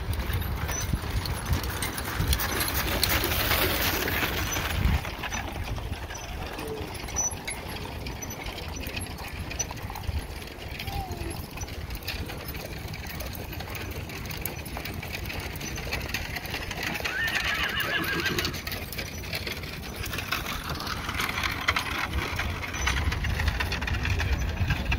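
Horses parade at a livestock auction, with scattered hoof clops on the ground and a steady ambient rumble of machinery and crowd noise throughout.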